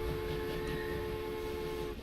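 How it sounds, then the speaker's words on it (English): Express train with Pullman wagons running in the game Transport Fever, a steady loud rumble with sustained horn-like tones throughout, no talk. "There we go, a lovely express train."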